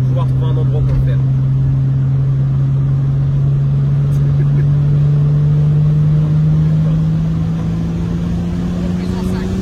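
A tuned 600+ horsepower Toyota Supra Stage X holds a steady, loud engine drone that rises slowly in pitch, heard close and continuous for nearly ten seconds without a sharp launch burst.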